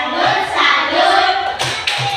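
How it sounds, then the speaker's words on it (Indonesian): Primary-school children in a classroom clap the 'tepuk salut' chant, with a few sharp group claps near the end standing out over a steady wash of young voices chanting together. "Tepuk salut untuk cerita."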